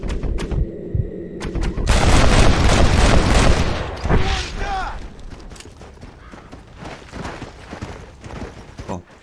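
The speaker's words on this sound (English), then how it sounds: "Wait, why are you shooting at me?" Gunfire in the video game Red Dead Redemption comes as loud rapid shots and booms over horse hooves, then fades into scattered distant cracks, with someone talking over part of it.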